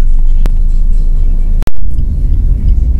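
Low road rumble of slow traffic heard from inside a car near a bridge in Marilao, a loud steady engine-and-tyre drone with a brief dropout partway through.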